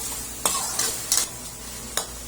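Bagoong alamang, shrimp paste, sautés in a pan with a soft steady sizzle, broken by four sharp scrapes and clinks of a spatula stirring against the metal.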